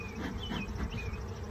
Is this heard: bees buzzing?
yes